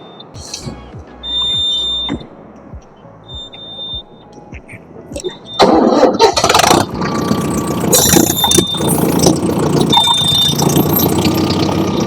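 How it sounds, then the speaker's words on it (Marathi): A tractor's diesel engine starts after a few seconds of quiet broken by high electronic beeps, then roars into a loud, steady, broadband running rumble that continues to the end. "आता हा ट्रॅक्टर चालवणार"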